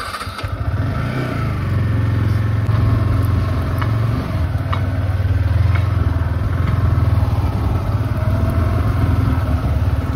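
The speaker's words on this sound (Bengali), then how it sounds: "এই হচ্ছে আমার বাইক।" A motorcycle engine runs close by, holding a steady, loud idle rumble with small throttle surges throughout, and no voices over it.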